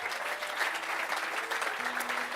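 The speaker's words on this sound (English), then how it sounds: "we need to have a round of applause for Lee Anderton." An audience at Guitar Summit 2024's ROCK ANTENNE Stage breaks into a short, steady round of applause, moderately loud and continuous.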